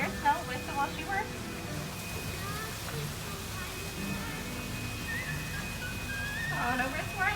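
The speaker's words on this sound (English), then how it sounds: "if you listen real closely, you can still hear Snow whistle while she works" Faint whistled tune from Snow White's cottage along the Disneyland Storybook Land boat ride, light melodic chirps drifting over water and ambient noise.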